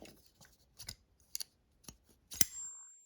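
A black Winterblade Co Factor folding knife flicked open and shut, giving a few sharp, dry metallic clicks and snaps spread across a quiet stretch, the last one loudest and followed by a brief ringing tail.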